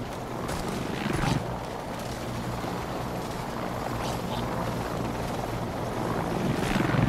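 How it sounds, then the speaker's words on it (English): A helicopter approaches in the co-op virtual reality zombie game Arizona Sunshine, a steady loud rotor drone and rumble filling the whole clip with no talk over it. "There's a chopper coming in."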